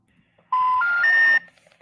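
Three rising electronic tones in quick succession, loud and clean, from a phone call to a disconnected landline, followed by near silence.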